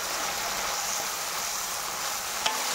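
Food fries and is stirred in a pan in a home kitchen, with a continuous close sizzle, a sharp clink near the end, and no talking.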